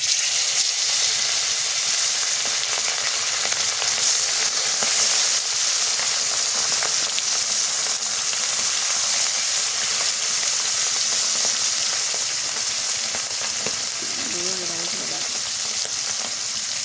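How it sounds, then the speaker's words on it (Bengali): Tilapia fish fries in hot oil in a pan with a loud, steady sizzle and crackle, continuous and close throughout. "মাছটা হচ্ছে সুন্দর করে করকরা করে ভাজা লাগবো"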